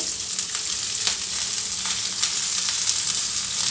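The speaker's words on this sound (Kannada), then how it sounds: "ಚಕ್ಕೆ ಸೋಂಪು ಗಸಗಸೆ ಲವಂಗ ಮತ್ತು ಮೆಣಸು ಇದೆಲ್ಲ ಸ್ವಲ್ಪ ಫ್ರೈ ಆದಮೇಲೆ" Whole spices (cinnamon, fennel, poppy seeds, cloves and pepper) frying in a pan for a country chicken curry, giving a steady, close broadband sizzle with faint crackles and no talk.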